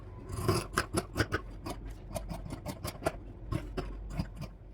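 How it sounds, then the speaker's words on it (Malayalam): Scissors snip through old nightie fabric along a marked line, a quick run of sharp crisp cuts in steady rhythm, close and clear with no talking. "നമ്മൾ ഈ മാർക്ക് ചെയ്ത് കൊടുത്തിട്ടുള്ള മാർക്കിങ്ങിലൂടെ കട്ട് ചെയ്തെടുക്കാം"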